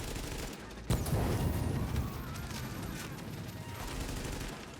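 Gunfire in the video game The Division during a power plant challenge mission, a sharp shot followed by rapid bursts of automatic fire and crackling echoes, moderately loud amid ongoing combat noise.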